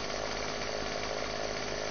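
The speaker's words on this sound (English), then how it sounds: "this chainsaw is really loud" A chainsaw runs continuously in the zombie survival video game 7 Days to Die, a steady, buzzing drone held at an even level with no talk.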